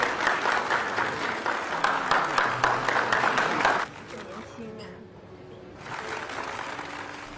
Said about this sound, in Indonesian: mereka langsung memberikan aplaus